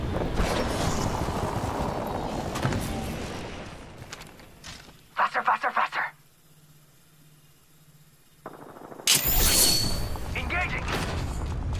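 Gunfire in the video game Apex Legends crackles in short bursts amid chaotic combat noise, with a sharp volley in the middle and louder shots near the end, and a voice speaking under the action.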